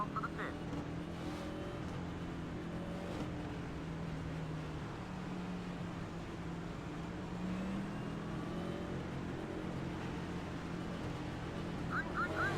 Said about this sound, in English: it's a race car simulator and we're driving race cars.